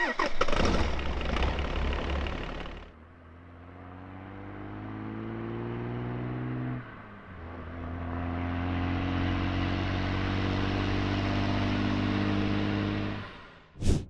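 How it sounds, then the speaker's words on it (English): An Australian PMV light vehicle engine in the game Squad starts with a loud burst, then settles into a steady droning idle and revs that rise and fall, dipping briefly midway before ending with a sharp click. "Let's take a listen to how their engine sounds."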